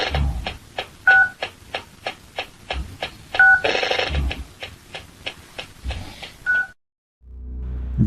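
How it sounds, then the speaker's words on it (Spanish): A steady series of short telephone keypad dialing tones beeps in a regular rhythm, with a few longer dual tones mixed in, loud and close, then cuts off. "sonaba como si estuvieran presionando las teclas"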